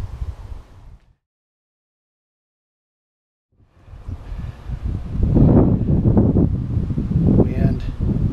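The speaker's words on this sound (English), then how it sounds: "Dadgum wind. Hate wind." Wind buffets a motorcycle rider's microphone in heavy, rumbling gusts, dropping out briefly to silence before returning louder and sustained.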